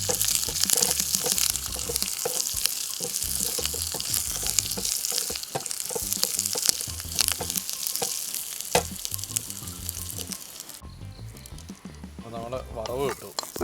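Curry leaves and sliced shallots sizzle in hot oil for a lentil curry tempering, a dense crackling fry that runs steadily and then thins out near the end, with someone talking over it.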